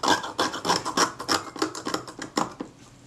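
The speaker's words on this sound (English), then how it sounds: "using the back edge of my scalpel again I can scrape most of this rubbish off" The back edge of a scalpel scrapes corrosion and thick glued-on leatherette off a Retina Reflex S camera body, giving a quick series of close, rhythmic rasping strokes, about a dozen in three seconds.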